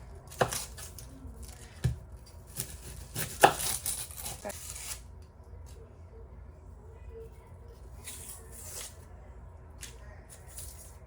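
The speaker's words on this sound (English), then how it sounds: "start by cutting off both ends" A knife chops through both ends of an onion on a cutting board, giving a few sharp, close cuts in the first seconds, followed by quieter rustling of onion skin.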